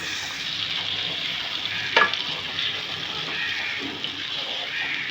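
Ginger, garlic, onion and green chili paste sautéing in a hot pan for green coriander chicken, a steady close sizzle with a brief scraping stir near the middle.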